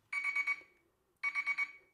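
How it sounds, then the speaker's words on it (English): A kitchen timer beeps in two bursts of rapid pulses, each burst holding about four quick tones, sounding clearly and fairly close during a one-gallon all-grain home beer brew in a kitchen. "There's the timer."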